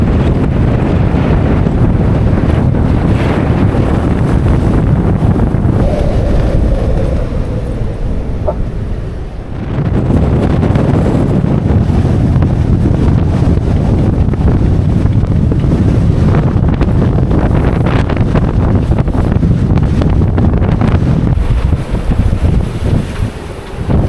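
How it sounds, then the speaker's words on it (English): Strong wind roars across a sailboat at sea, with heavy buffeting on the microphone, rushing water and waves, loud and continuous for the whole stretch with only a brief lull midway, no voices. "That's how much wind there is."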